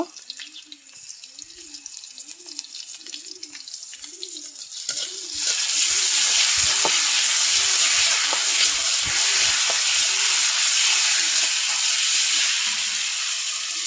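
Ginger garlic paste hits a hot frying pan and bursts into a loud, steady sizzle for a vegetarian curry. A quiet voice with a few clinks comes first, then the sizzle takes over and stays close and dense.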